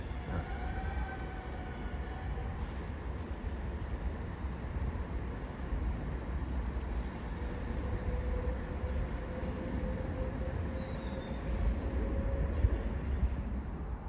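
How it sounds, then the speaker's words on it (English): A Class 390 train departing from Warrington Bank Quay for London Euston: a continuous rumble of wheels and running gear with faint high wheel squeals and whines, steady and fairly close throughout, with no talk. "Railway Benefit Fund 390-155, reeling off to London Euston"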